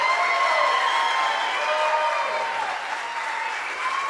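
A church congregation applauds and cheers continuously, a dense wash of clapping over a held tonal backdrop that stays strong and even throughout.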